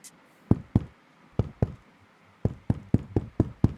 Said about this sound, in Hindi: पता नहीं किसने बाहर दरवाजा खटखटाया।